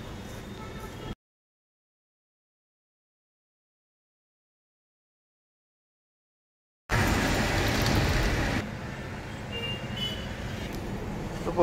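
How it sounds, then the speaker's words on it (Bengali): Traffic in a rain-soaked jam at Chingrighata, Kolkata, rumbles with engine noise and road hiss in short segments broken by a long silent gap, the vehicle drone loud near the end before easing slightly. "এটা হলো চিংড়িঘাটার জ্যাম।"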